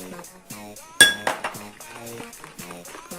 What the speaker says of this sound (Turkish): Biraz böyle karıştıralım.